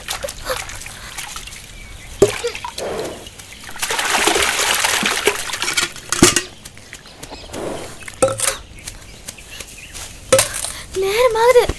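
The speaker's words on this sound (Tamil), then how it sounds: "ஒரு வாளி தண்ணி மூடுறதுக்கு இவ்ளோ நேரம் ஆகுது." Water drawn into a bucket by hand, with intermittent splashes, sloshing and trickles at close range, some bursts louder and longer than others, and occasional voices nearby.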